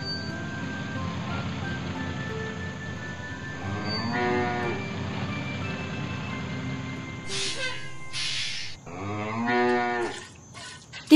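A cartoon cow on a farm gives two drawn-out, mechanical-sounding moos a few seconds apart, set over a steady hum and bursts of bright background sound.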